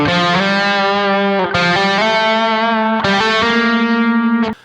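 An electric guitar plays sustained chords through a plate reverb effect, each strum ringing out with a wide, shimmering reverb tail that blurs the notes together.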